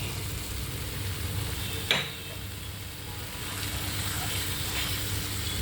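Masala with kasuri methi and capsicum being stirred in a pan for a mushroom and bell pepper dish, giving a steady close sizzle and frying hiss with soft stirring scrapes and one sharp clatter near two seconds.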